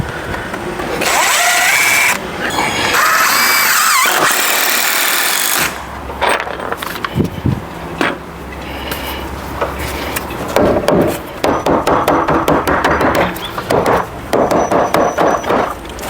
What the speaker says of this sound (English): let's go ahead and nail some of these in place